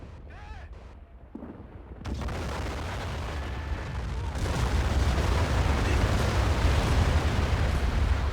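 Artillery bombardment in a Cold War 1975 mod of a war video game: after quieter sounds, a heavy blast hits, then a sustained, loud roar of rolling explosions builds and continues to the end.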